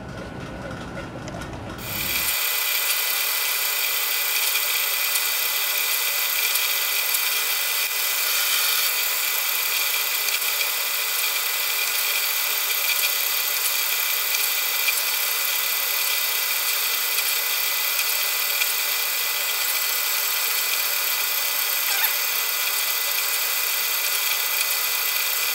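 Steady, continuous whirring drone of a rotary drill boring mounting holes through a homemade printed circuit board with an ordinary index bit, starting abruptly after a brief lead-in and holding at an even level throughout.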